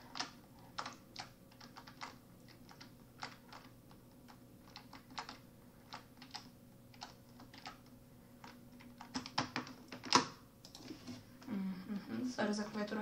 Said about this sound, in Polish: Sorry za klawiaturę, bo troszkę ją pewnie było słychać.